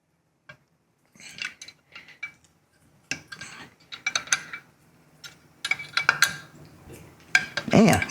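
A 10 mm ratchet clicks and metal taps sound while a bolt is loosened on a Tillotson 225cc engine, scattered close mechanical ticks and clatter in short bursts, growing busier toward the end.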